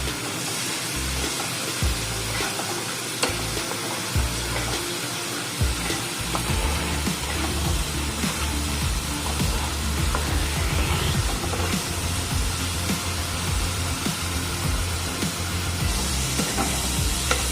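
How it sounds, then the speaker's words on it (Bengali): Spice paste loosened with a little water fries in a pan for fish egg kofta curry, a continuous loud sizzle and hiss broken by repeated scraping and stirring strokes, with no one talking. "জল দিয়ে মশলাটা ভালো করে কষিয়ে নেব।"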